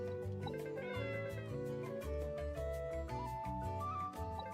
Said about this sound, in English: Oh, this is the cat we saw in one of our weekly updates.